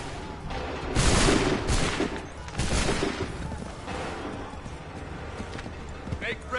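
Musket volleys ring out in the Assassin's Creed 3 Remastered battlefield: a few loud, crackling bursts early on, then a rumbling tail that fades into steady battle noise.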